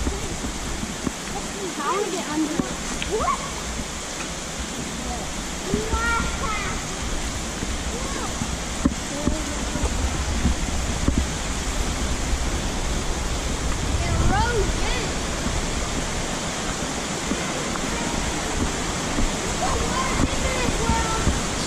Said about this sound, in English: It's coming down from the top just like last time.